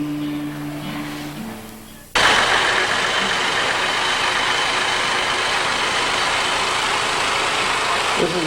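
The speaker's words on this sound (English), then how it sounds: "This is the tractor pull," A tractor engine at a tractor pull roars in abruptly after quiet background sound, then holds a loud, steady, broadband drone close by for the rest of the clip.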